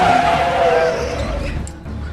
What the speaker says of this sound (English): he was accidentally hit by David's car